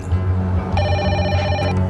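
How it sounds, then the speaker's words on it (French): A telephone rings loudly and up close with a steady electronic ring tone, and a low background hum runs beneath it. "Il est 18h lorsque le téléphone de Janine sonne."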